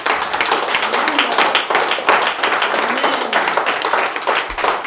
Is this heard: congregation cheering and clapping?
yes